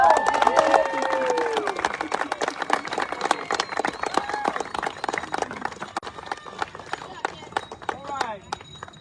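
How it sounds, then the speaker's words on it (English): Crowd applause for two youth Little League baseball teams after a junior state championship game, steady dense clapping with scattered cheers under a speaking announcer. "let's give both these teams a big round of applause"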